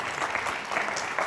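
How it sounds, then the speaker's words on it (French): Studio audience applauding a returning game show finalist, a brief, steady patter of clapping with a faint voice underneath. "On applaudit d'abord notre finaliste d'hier"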